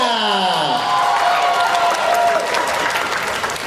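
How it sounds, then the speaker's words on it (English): Loud, continuous applause with cheering from a crowd at the closing ceremony of a fan festival in Toronto, holding steady for several seconds while a rising shout or whoop sweeps up at the start. "One more big round of applause for Sika!"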